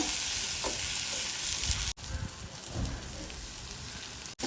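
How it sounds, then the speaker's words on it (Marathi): Red chili powder being stirred into a frying dal tadka tempering, a loud hissing sizzle that runs continuously, broken twice by brief sudden drops, with scraping stir sounds underneath and no voices. "लाल तिखट मिरची टाकून घेऊया। छान मिक्स करून घेऊया।"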